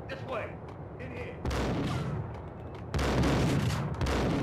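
Heavy gunfire bursts and booming shots from a shotgun fight in the video game Max Payne, loud and dense, growing stronger in steps across the stretch, with a voice faintly present underneath.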